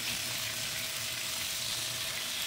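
Chicken liver and gizzards fry in hot oil, a steady close crackling sizzle that stays even throughout with no talking.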